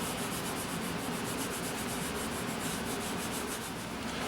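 Steady, continuous rubbing close up as adhesive is worked off a badge wedge by hand, a dense even scrubbing texture with no pauses or voices.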